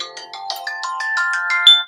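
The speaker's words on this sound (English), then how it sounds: "That's my alarm." Phone alarm goes off close by, a quick rising run of bright electronic chime notes that swells louder toward the end, with no talking.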